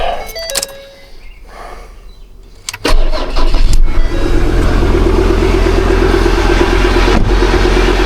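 A Ford Ranger Wildtrak 3.2 turbo diesel engine, just repaired after a turbo gasket failure, cranks and catches, then settles into a loud, steady idle with a deep exhaust note, close by.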